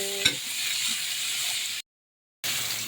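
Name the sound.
stirring and heating string beans in a pan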